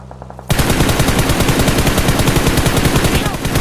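Sustained automatic gunfire in PUBG on the Erangel map erupts abruptly and rattles on loudly and rapidly in a dense stream until the end, with a quieter game soundscape just before it.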